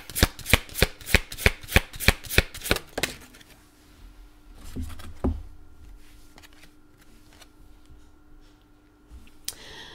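Tarot cards shuffled in a quick run of about nine crisp riffling bursts, close and clear, then a few softer taps and a faint hum as the deck settles for a final draw.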